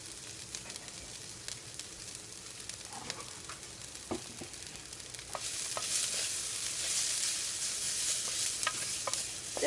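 Onions browning in a pan for a Sri Lankan brinjal pickle, a steady close sizzle that swells louder halfway through, with scattered pops and crackles and occasional stirring scrapes.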